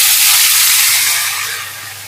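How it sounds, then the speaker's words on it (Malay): Blended chili hits hot oil in a pan for sambal tumis, a loud close burst of sizzling that fades steadily over about two seconds, with no talking. "Minyak dah panas sekarang. Masuk cili yang kita dah blender tadi."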